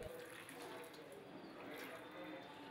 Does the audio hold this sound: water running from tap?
yes